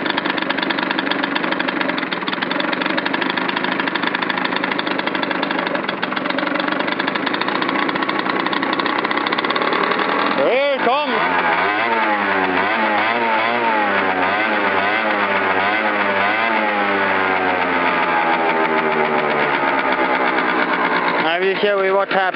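A small engine runs loudly and unevenly, then its pitch swoops up and down repeatedly as the revs surge and fall.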